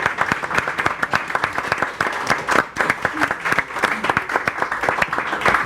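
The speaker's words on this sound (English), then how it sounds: "everybody give a big round of applause" A studio audience at a live-streamed show breaks into loud, close applause, fast overlapping claps that stay dense and even throughout, with faint crowd murmur underneath.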